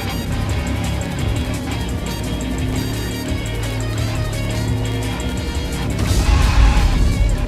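A kart engine hums continuously in 31 Minutos Kart, mixed with loud music, and a harsher burst near the end suggests a braking skid or impact.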